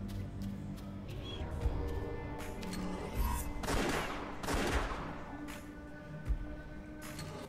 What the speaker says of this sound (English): Alright, I'm getting shot at